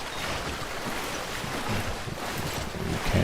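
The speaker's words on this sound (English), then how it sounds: "Treading through water is treacherous." A character wades through deep water in Death Stranding, with a continuous rushing, sloshing wash of water and wind and no voices.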